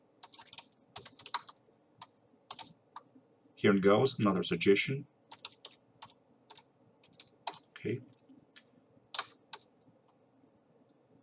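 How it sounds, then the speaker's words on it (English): Computer keyboard typing in SDL Trados Studio translation software: scattered light clicks and quick keystroke runs, close and fairly soft, with someone speaking briefly over the keys partway through. "and I'll continue typing."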